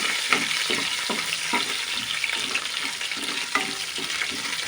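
Green chillies frying in a pan with garam masala for a stuffed brinjal curry, giving a continuous bright sizzle with regular scraping stirs, close and fairly loud.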